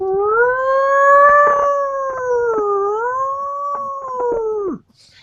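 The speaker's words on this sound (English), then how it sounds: "You hear that? The sirens." A loud, sustained siren wail rising and falling slowly, then cutting off abruptly near the end.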